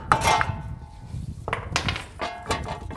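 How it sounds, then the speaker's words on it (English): Hammer tapping on the front axle of a 2011-2015 Chevy Cruze during a hub bearing job, a few sharp metallic knocks with ringing tails in an uneven rhythm, close and clear without talk. "Now we'll give it a little tap on the axle."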